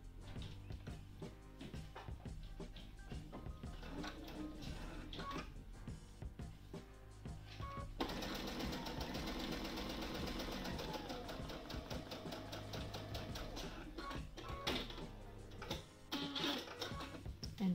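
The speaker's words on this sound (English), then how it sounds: "we're just going to pop a pin in like that, and we're just going to sew on the marked line." A sewing machine stitches quilt binding along a marked line, running steadily and fairly quietly for the whole stretch, its motor hum underlying a continuous rapid stitching rhythm.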